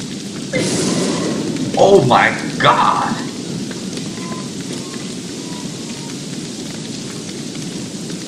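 Steady rainfall hisses in Don't Starve with a low rumble of thunder rolling in, while a player exclaims briefly in alarm over the downpour.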